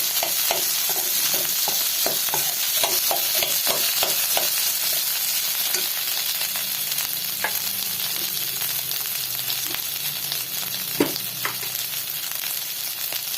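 Potatoes sauté and get stirred in a pan for a fasting-day meal, a steady close sizzle running throughout with repeated scraping and clinking of the spoon, no voices.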